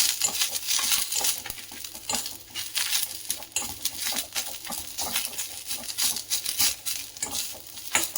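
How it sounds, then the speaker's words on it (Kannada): Cumin seeds and tamarind dry-roasting on a low flame for putani chutney powder give a busy, rhythmic rattle and scrape of stirring over a faint sizzle, close and without voices. "ನಾವು ಚೆನ್ನಾಗಿ ಫ್ರೈ ಆಗೋವರೆಗಿಂದ ಹುರ್ಕೊಳ್ಬೇಕು"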